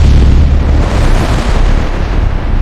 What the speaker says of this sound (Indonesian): Ledakan demi ledakan mengguncang titik strategis.